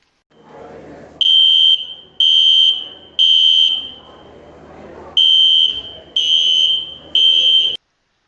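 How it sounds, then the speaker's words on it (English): A school fire alarm in a classroom blares in a repeating pattern of loud, harsh electronic honks, each about half a second long, in two groups of three. Faint murmuring and room noise fill the gaps between them. "Get up when hearing the fire alarm,"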